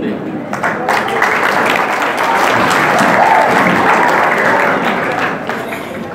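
Audience applause after a motivational lecture at a medical college, a dense, steady wash of clapping that holds at full strength for about six seconds, with chatter mixed into the crowd noise.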